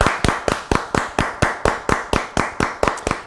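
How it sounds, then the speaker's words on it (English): Rhythmic hand claps ring out loud and near, a steady run of about a dozen evenly spaced double claps, people applauding NHS workers at 8 o'clock in the UK. "So we're going to give them a big round of applause."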